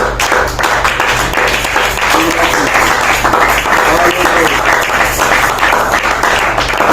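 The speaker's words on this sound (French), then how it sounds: "Et remercie Dieu par des acclamations encore." A church congregation at a Sunday worship service bursts into sustained applause and cheering, a dense, loud wash of clapping and voices that holds steady throughout.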